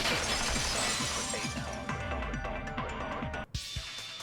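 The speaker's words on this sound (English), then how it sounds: "If it wasn't the window, then what broke to make that sound? A vase." A vase shatters in the video game Danganronpa 2: a loud crash followed by a scatter of tinkling shards and debris, with a sharp final clink near the end.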